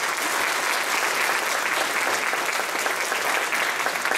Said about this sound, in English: I think we should all just give Sven a round of applause for that.